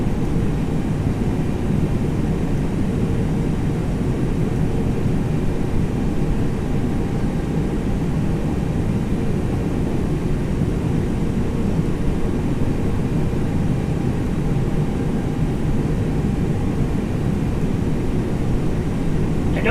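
A Toliss A321 airliner in the X-Plane flight simulator gives a steady, loud, low engine roar that holds unchanged for the whole stretch with no other sounds standing out.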